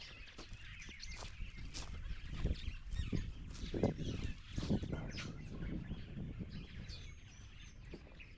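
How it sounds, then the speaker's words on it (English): Birds calling and chirping outdoors by the Sabie River in Kruger, a mix of bright tweets and lower honking or quacking calls, moderately distant against a quiet background. "And listen to the birds."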